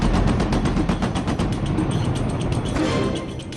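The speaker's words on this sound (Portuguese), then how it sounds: "Soltei uma rajada longa de 34 tiros." A long burst of machine gun fire, about 34 shots, hammers out as rapid, evenly spaced loud reports in a continuous stream lasting several seconds, close and with no talk.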